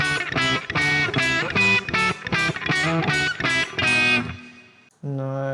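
A distorted electric guitar plays a riff through a Quad Cortex with a very subtle, short delay, sounding as a run of punchy picked notes and chords, then a brief gap and a sustained note.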